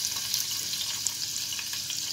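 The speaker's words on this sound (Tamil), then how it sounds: "இப்போ இந்த பொடியாக நறுக்கின வெங்காயத்தை போட்டு தாளிச்சிக்கலாம்." Finely chopped onions hit hot oil and ghee in a pan for biryani kushka, giving a steady, bright sizzle that stays loud and even from start to finish with no talk over it.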